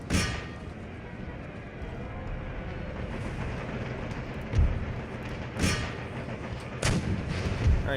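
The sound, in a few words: cannon artillery fire in the video game Empire: Total War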